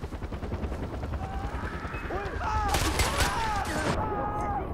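Rapid bursts of automatic gunfire aimed at a helicopter in the video game Far Cry 4, crackling volleys that grow denser and louder midway, with the helicopter's rotor droning underneath.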